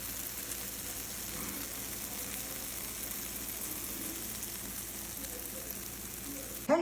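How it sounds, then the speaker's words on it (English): Palmier cookies sizzle on a hot stoneware pan fresh from a 400-degree oven, a soft, steady crackling hiss that continues evenly, with a brief clatter at the very end. "did you hear that sizzle?"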